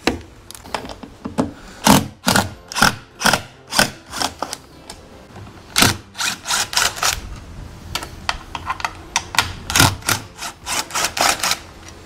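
A ratchet backing 3/8 self-tapping sheet metal screws out of a Tracker Pro Guide V-16 WT boat: close, crisp bursts of rapid clicking, repeated in uneven clusters with short pauses between them.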